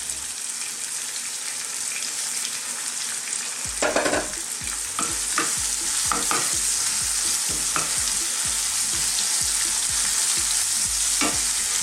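Ground beef fries and sizzles in a pan with black pepper and salt, a steady hiss broken from about four seconds on by repeated scraping strokes of a utensil stirring the pan, close and fairly loud, no voices.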